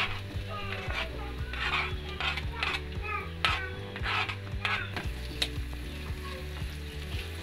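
Two medium onions frying in about three tablespoons of oil in a kadhai, sizzling steadily up close while a spoon stirs and scrapes rhythmically against the pan, with faint children's voices in the background.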